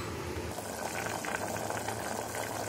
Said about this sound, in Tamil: இப்போ மூடி போடாமே நல்லா 1-10 நிமிஷம் நல்லா கொதிக்குது.